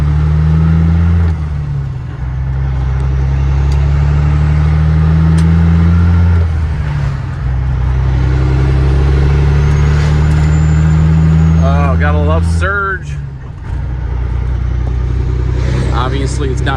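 An owner-operator's semi truck engine lugs in the wrong gear, a deep, steady, strained drone that dips briefly and then carries on, with a voice talking over it.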